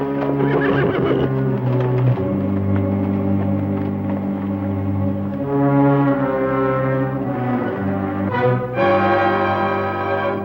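A horse whinnies in a long, wavering call, loud and close, rising and falling over about ten seconds with no talk over it, set in an outdoor Western scene near a fence.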